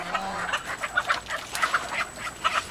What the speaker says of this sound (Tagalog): Ano nangyayari doon sa mga manok?